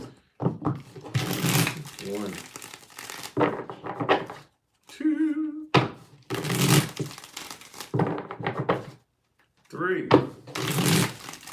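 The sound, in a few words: shuffling tarot cards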